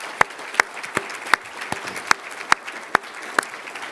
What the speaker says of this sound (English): let me ask you to join in a round of applause to thank the many sponsors that helped make this possible